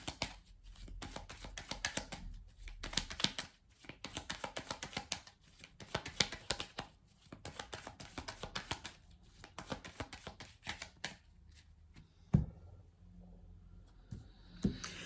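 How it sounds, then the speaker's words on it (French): Tarot cards shuffled by hand before a nine-card spread: a steady, dense papery riffling and rustling that runs for about eleven seconds, then drops to a few soft handling sounds. No one speaks. "On va faire un tirage en 9 cartes"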